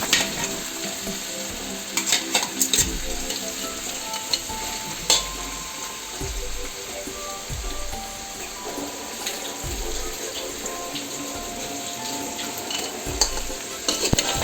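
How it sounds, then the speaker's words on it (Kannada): Crab pieces frying in a pan with onion and tomato, a steady close sizzle with stirring clatter and occasional scrapes of a spoon against the pan, no voices. "ಈಗ ಏಡಿಯನ್ನು ಸೇರಿಸಿ ಚೆನ್ನಾಗಿ ಮುಚ್ಕೊಳ್ಬೇಕು."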